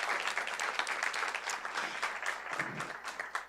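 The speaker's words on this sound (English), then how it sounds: "So let's give Laura and Jenny a round of applause as well." Steady, dense applause from an audience at a summit leadership event, acknowledging Laura and Jenny; clapping stays even and close throughout, with no pauses.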